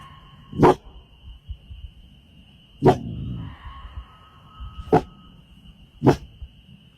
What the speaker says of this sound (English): Her dog suddenly starts barking as something horrifying is captured on camera.